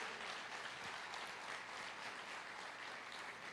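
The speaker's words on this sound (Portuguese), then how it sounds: "Quem aqui pode aplaudir?" A church congregation applauds during a worship service, dense continuous clapping from many people that stays level throughout with no voices on top.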